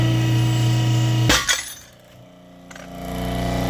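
Broach pressed through a pre-drilled steel plate to cut a square hole, a steady machine drone broken by a sharp cracking snap as the tool breaks through, then a quieter hum building back up.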